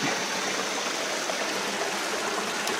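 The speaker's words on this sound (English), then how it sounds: "You can't just swish it around in the water. You've got to really scrub it." Continuous rushing, splashing water, steady and fairly loud, as very sticky mud is scrubbed off in water in a rainy Costa Rica jungle.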